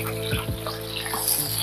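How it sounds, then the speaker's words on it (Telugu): Brinjal pieces hit hot oil in a kadai, giving a steady close sizzle and hiss with a few soft splashy bursts as the pieces drop in, over a faint constant background hum. "వంకాయ ముక్కలు వేస్తున్నాను నేను"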